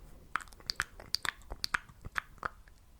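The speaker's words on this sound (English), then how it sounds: "if you are a big fan of, gum chewing, mouth sounds, all those kind of ASMR triggers" Gum being chewed close to the microphone for ASMR, a run of crisp, wet smacks and clicks in an uneven rhythm over a quiet background.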